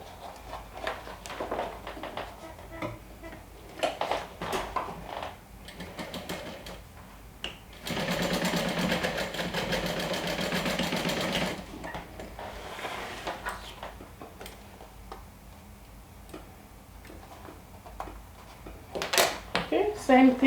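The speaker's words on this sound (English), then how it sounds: "And sewing a straight stitch." Sewing machine running a straight stitch in one continuous burst of about four seconds, loud and even, set between stretches of talking and small handling noises.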